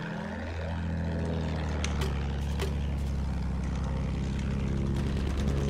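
Warplane flying during a Battlefield 1 match, a steady loud engine drone with propeller hum filling the whole stretch, with faint distant gunfire cracks over it.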